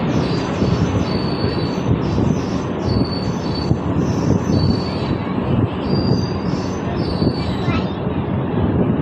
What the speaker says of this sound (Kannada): ನೋಡಿ, ಅಗರ್ತಲಾ SMT ಬೆಂಗಳೂರು ಹಮ್ಸಫರ್ ಎಕ್ಸ್ಪ್ರೆಸ್